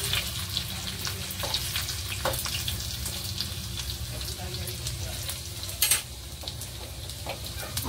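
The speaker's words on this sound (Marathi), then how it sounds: "आपली फोडणी मस्त अशी तडकली" Green and Shankeshwari chillies with a pinch of asafoetida crackle and sizzle in hot oil as a tempering for South Indian curd rice, a steady close fry with a brief louder spurt near the end.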